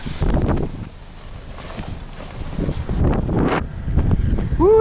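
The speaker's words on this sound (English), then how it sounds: "Woo, it's windy." Wind gusting outdoors beside a 2018 Audi A3, buffeting the microphone in rough low rumbles that rise and fall over a few seconds.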